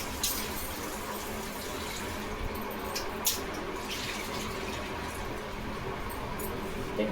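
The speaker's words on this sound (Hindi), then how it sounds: "अच्छी तरह से धो लें" Peeled green chilies being rinsed under a running tap for a green chili sauce, a steady, close splashing stream of water that continues throughout with a few brief sharper splashes.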